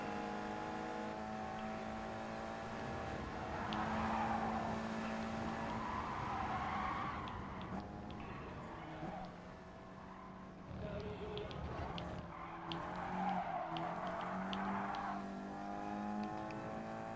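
An Integra race car in Gran Turismo Sport races with a continuous loud engine drone and rising revs, repeated tire skidding and squeal, and a brief dip as the car lifts off the throttle.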